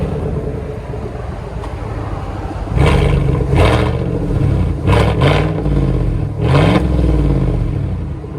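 A 2019 Chevy Silverado with a 5.3L V8 and muffler delete idles with a loud, deep rumble, then blips the throttle in four or five sharp, raw revs that rise and fall close by, with no talking.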